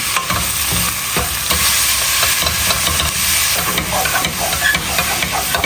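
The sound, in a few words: pork mince and garlic frying on high heat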